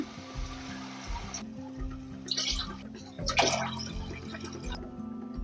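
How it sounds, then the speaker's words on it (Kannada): Water is poured from a glass into rice for rasam rice, with short splashing pours and drips over a low, rhythmic background hum. "ಇದಕ್ಕೆ 3 ಲೋಟ ನೀರು ಸೇರಿಸ್ಕೊಳ್ಳೋಣ"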